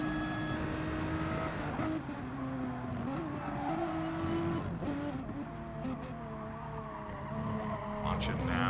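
Race cars lapping Suzuka GP Circuit in a Gran Turismo Sport GT Cup esports race, engines droning steadily with shifting pitch and faint tire scrubbing, running continuously beneath a commentator's voice.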